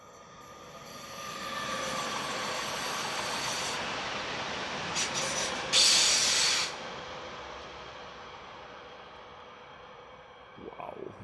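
An S-Bahn train passing at the Brenner railway in autumn, a broad rushing hiss that swells in and holds for several seconds, with a brief louder high squeal near the middle before fading away.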